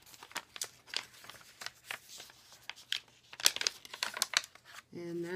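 Small paper sewing-pattern tags being handled, giving close, irregular bursts of crinkling and rustling. Brief speech is heard near the end.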